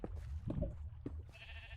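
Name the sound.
sheep bleating in the video game Minecraft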